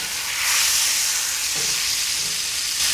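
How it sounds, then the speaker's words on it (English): Tomahawk steak searing on a gas grill, giving a steady loud hissing sizzle that swells slightly partway through, close and continuous without speech. "we're gonna sear all of the sides of the steak as well"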